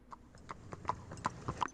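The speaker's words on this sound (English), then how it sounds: "just in case old Abraham comes around in the horse and buggy" A horse pulling a buggy clip-clops in a steady, even rhythm of hoof strikes on a hard surface, fairly close but quiet, with no talking.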